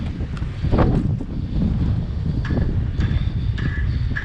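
Strong north wind of about 20 to 30 mph gusts across an outdoor construction site where a foundation is being pumped, producing loud constant buffeting on the microphone along with a few faint higher clanks and squeaks.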